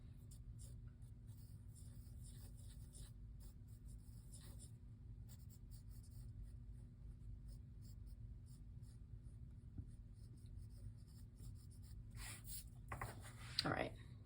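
Pencil drawing ellipses on paper for a simple chariot sketch, a soft continuous scratching and rubbing that runs steadily at low volume, with a brief louder stroke near the end.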